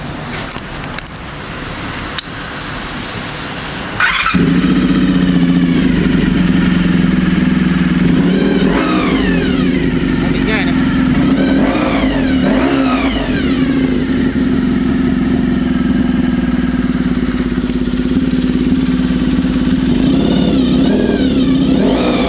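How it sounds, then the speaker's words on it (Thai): A 1992 Honda VFR400 motorcycle engine starts up and idles loudly close by, with repeated revs rising and falling over a steady low rumble. "เราลองฟังเสียงเครื่องยนต์กันนะครับ"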